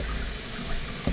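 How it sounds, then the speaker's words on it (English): A kitchen sink faucet runs as a steady, broad rush of water, close and fairly loud, with a brief low knock near the end and no speech. "I'm just gonna start running the water now."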